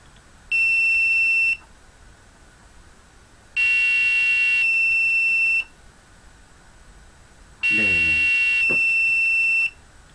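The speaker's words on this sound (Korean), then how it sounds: "LED가 켜지고, 부저가 울리고" Arduino-driven buzzer sounding three times in a steady pattern, each loud electronic beep lasting about a second with even gaps between, while LEDs blink along; a voice murmurs briefly under the third beep.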